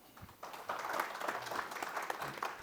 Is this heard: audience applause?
yes